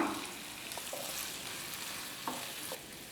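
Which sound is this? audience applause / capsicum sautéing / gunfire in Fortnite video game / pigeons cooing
capsicum sautéing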